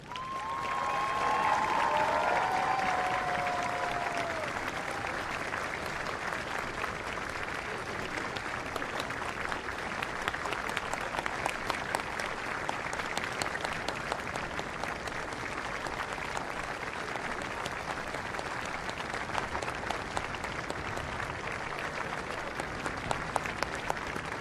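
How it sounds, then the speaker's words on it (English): Spectators at the 2024 London Marathon giving a long, sustained round of applause as a tribute, a dense, even clapping that continues steadily at moderate volume. "Let us now pay tribute with a period of applause."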